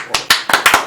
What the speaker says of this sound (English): That deserves a bigger round of applause.